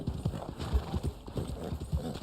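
Hooves of an Arabian horse clip-clop in Red Dead Online, a brisk, fairly close rhythm of soft thuds lasting a couple of seconds with a faint trace of talk in the background.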